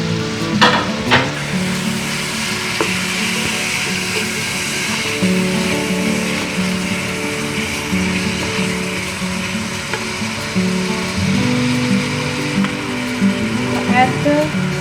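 Chicken pulao with tomato paste fries in a pot and is stirred, a steady sizzle with scraping utensil sounds throughout, while a person talks over it.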